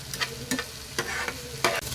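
Egg and green beans stirred in a frying pan, spatula scrapes landing in a few distinct strokes over a steady close sizzle, no voices.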